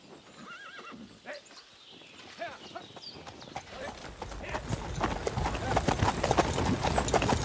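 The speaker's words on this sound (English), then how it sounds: "Horse." A horse whinnies in the game Kingdom Come: Deliverance 2, then hooves clip-clop in a quickening rhythm that grows louder and closer, with faint voices underneath.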